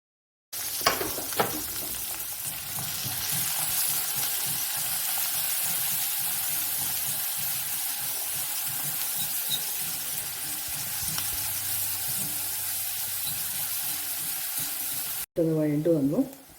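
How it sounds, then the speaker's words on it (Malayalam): Chopped onions go into hot oil where mustard seeds have already spluttered, for a vendakka (okra) mezhukkupuratti, giving a steady, close sizzle with soft stirring that runs on unbroken before a voice briefly speaks at the end. "കടുക് നന്നായി പൊട്ടിക്കഴിഞ്ഞു. ഇനി ഇതിലേക്ക് നമുക്ക് അരിഞ്ഞു വെച്ചിരിക്കുന്ന ഉള്ളി ഇടാം."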